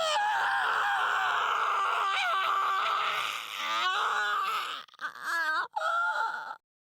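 A character in the Steins;Gate video game lets out an anguished scream, a sustained wavering wail that rises and falls, then breaks into a few shorter strained cries before cutting off abruptly.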